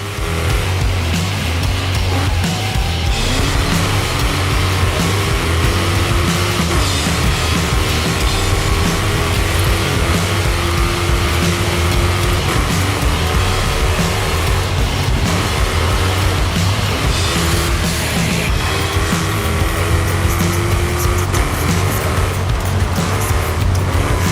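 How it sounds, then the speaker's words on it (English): An SVT car revs hard while racing in Forza Horizon 5, its engine droning loud and steady with rising and falling pitch sweeps over a constant road and wind roar. "The SVT is my kind of car. Light and short, too much power and too much oversteer."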